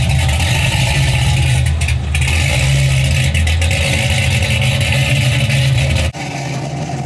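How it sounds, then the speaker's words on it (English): A tuned performance car engine running steadily at idle with a slight misfire, loud and close for several seconds with a faint uneven lope, cutting off abruptly near the end. "the car actually has like a little bit of a like miss or something going right now"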